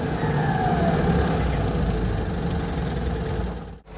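A Citroën 2CV engine runs at a high idle, a steady close mechanical drone that holds evenly before briefly dipping near the end.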